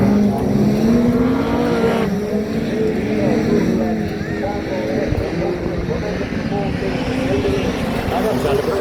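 Autograss race cars at the Southern Nationals in Somerset, England, with several engines droning and revving steadily at a distance, and voices talking over the continuous racing noise.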